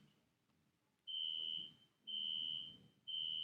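A fire alarm sounds during a classroom lecture, giving three long steady high-pitched tones about a second apart with brief gaps, loud against a quiet room.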